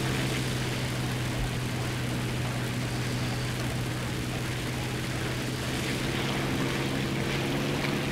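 A Fiat CR.42 biplane fighter's propeller engine drones steadily and loudly in an arcade flight combat game, a constant even hum with no speech.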